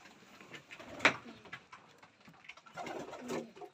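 A Van Loon racing pigeon coos close by in a few soft, throaty bursts, with faint rustling and shuffling between calls in a quiet loft.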